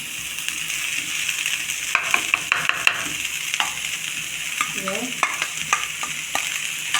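Rice with cabbage stirred around a hot oiled pan: a steady sizzle with bursts of spoon scraping and clatter, close and fairly loud, with no voices.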